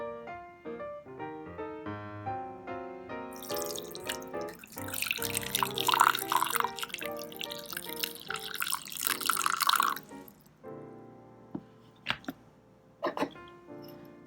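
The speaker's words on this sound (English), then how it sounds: "go ahead and pour yourself a nice cup of coffee" Dark coffee pours from a Bodum French press into a cup. A steady liquid stream runs for several seconds, then trickles off into a few scattered drips, after a stretch of tonal background sound at the start.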